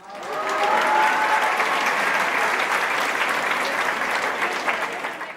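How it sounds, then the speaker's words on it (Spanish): A crowd at an anniversary gathering breaks into sustained applause for the women, rising quickly and holding a dense, even clapping roar for several seconds. "Un aplauso para las mujeres."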